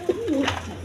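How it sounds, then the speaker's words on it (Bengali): A single short coo comes from a male Mukhe pigeon at close range, with a low steady hum underneath. "এই নটটা প্রচুর ডাকাটাকে"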